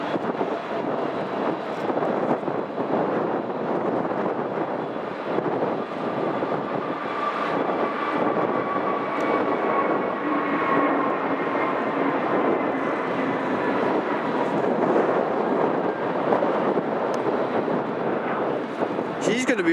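An airliner taking off at Manchester Airport, a loud sustained engine roar with broad rushing noise and wind buffeting that holds steady throughout, while people talk over it.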